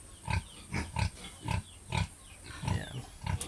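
A native boar pig at a pen grunts in a steady series of about nine low, close, rhythmic grunts, fairly quiet, with no voices.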